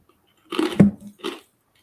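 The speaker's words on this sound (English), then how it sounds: "Ooh, that was a good crunch noise." Crunchy rye chips are bitten and chewed close to the microphone in two or three brief, crisp bursts separated by silence.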